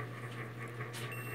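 A steady electric buzzer drones at a low pitch throughout, with a thin, high tone joining near the end. No one speaks.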